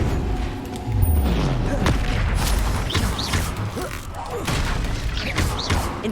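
Incendio fire spell cast again and again in a Harry Potter video game, loud bursts and whooshing blasts layered over continuous game effects and a spoken voice.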